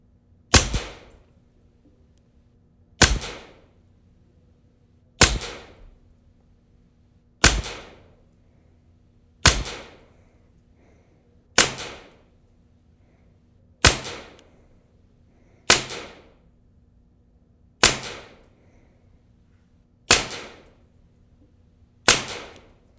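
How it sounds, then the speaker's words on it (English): A Taipan Slash gun fired slow and steady through a whole magazine at a target, eleven loud sharp cracks spaced about two seconds apart, each standing alone with no talking. "Now I'm just gonna do slow fire,"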